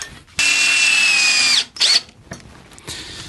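A power drill drives a long reused screw into chipboard in a single loud burst of just over a second, followed by a brief second spin and then quieter handling noises.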